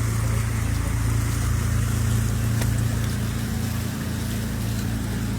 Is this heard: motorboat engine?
yes